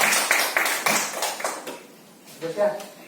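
Students in a classroom clap their hands in a short, uneven burst of applause at close range, fading out before a voice begins speaking.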